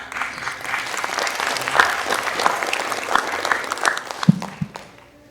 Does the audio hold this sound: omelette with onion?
no